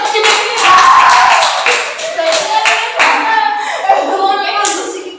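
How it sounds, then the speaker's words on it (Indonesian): A group of children in a classroom claps for a winning team after a simulation game, steady mixed hand claps lasting several seconds with some voices faintly underneath. "Oke, tepuk tangan dulu"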